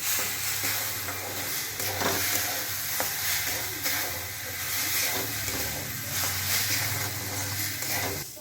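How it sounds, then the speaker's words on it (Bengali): Moong dal dry-frying in a pan for khichuri, a steady close sizzle with scraping stirs and intermittent low hum in the background, continuous throughout without talk. "ভালো করে মুগ ডালটা ভেজে নিতে হবে"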